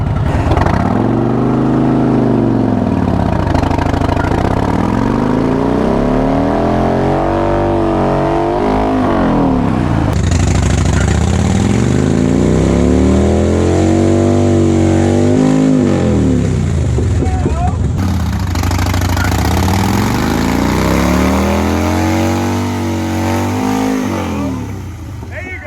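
Harley-Davidson motorcycle doing a burnout: a loud, close engine revving up and down in repeated long swells, with a rising hiss from the spinning tire toward the end and voices talking over it.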